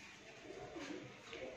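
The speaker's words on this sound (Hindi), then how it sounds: "ये यहाँ पर ना कबूतर बैठा है" A pigeon coos softly and steadily, faint and somewhat distant, outdoors near a green neem tree with light background ambience and no talking.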